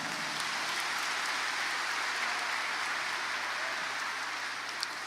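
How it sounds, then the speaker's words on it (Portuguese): Crowd applause fills a Catholic church during a homily at the Vem Louvar 2019 gathering, a dense, even clapping that holds steady and fairly loud for the full five seconds with no voices over it. "Vamos dar uma salva de palmas, né?"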